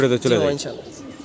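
Damascene pigeons give a short, low cooing call, close and fairly loud, lasting about a second with a brief breathy trailing sound after it.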